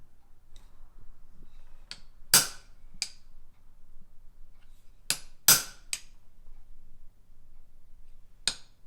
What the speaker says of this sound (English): just give it a little tap and it will put a little divot in there